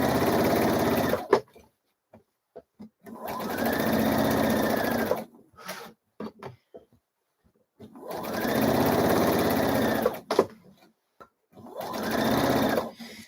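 Sewing machine stitching the seam around a hood lining on a hoodie, running in four long bursts of steady whirring separated by pauses with small clicks and handling sounds, close and loud, no voices.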